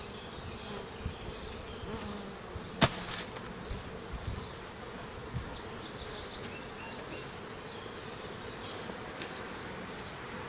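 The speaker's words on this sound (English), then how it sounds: "Another nice box of bees." Honeybees hum steadily inside a swarm box in a suburban yard, a close, continuous buzzing drone with a few brief sharper flicks and one sudden loud tap near the start.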